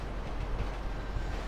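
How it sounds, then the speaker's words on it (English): Steady rumble of a train riding along its rails in GTA 5, a continuous close low roar with faint rhythmic clatter, no voices. "let's see how far we can go on the train"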